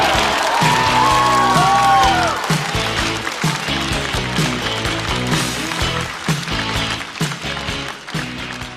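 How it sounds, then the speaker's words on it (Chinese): A live stand-up comedy audience bursts into loud, sustained applause and cheering to welcome a comedian back to the stage, a dense crowd roar that slowly thins over several seconds, with music playing underneath. "让我们掌声欢迎重新归来的陈小静"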